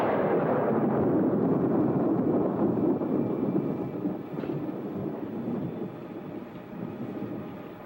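Thunder rolls through a stormy night in a 1946 film noir, a long, deep rumbling roar that is loud at first and slowly fades and settles, with no voices over it.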